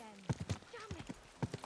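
Horse hooves clip-clop in Kingdom Come Deliverance II, a few close, crisp hoof strikes in an uneven walking rhythm, with a voice heard briefly alongside.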